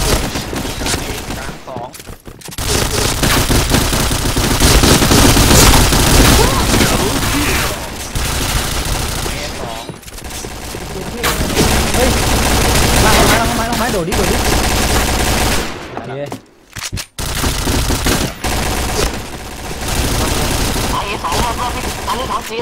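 Rapid automatic gunfire in a clan match of a shooting video game, dense loud bursts and fusillades separated by brief gaps, with excited players talking over the shots.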